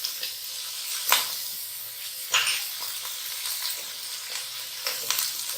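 Spinach, bell pepper, carrot and green onion fry with chicken in a pan, a soft steady sizzle with occasional louder hissing bursts as the food is stirred, fairly quiet and close.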